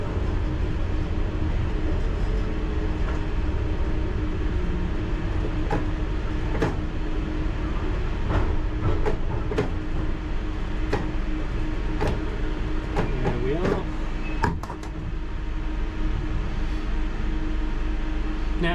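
London Underground Piccadilly Line train running between Gloucester Road and Earls Court, a continuous loud rumbling roar with intermittent clicks and rail clatter heard from inside the carriage.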